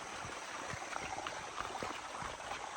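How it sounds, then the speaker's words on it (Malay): A river flows with steady broadband rushing and trickling, close and continuous throughout with no voices, as heard down by the water near Julau, Sarawak. "Bunyi sungai dia."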